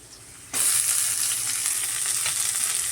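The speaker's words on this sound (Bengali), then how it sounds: "পেঁয়াজ আর একটু মোটামুটি ভাজা হয়ে গেছে" Onions and leafy greens hit a hot pan and start sizzling loudly, a continuous crackling fry with occasional stirring scrapes.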